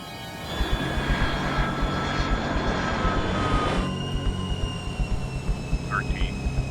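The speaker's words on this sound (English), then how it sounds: "They're now less than a minute from the runway." Airliner engines roar steadily on final approach to a runway landing, a loud continuous rushing drone that eases slightly partway through, with faint cockpit sounds near the end.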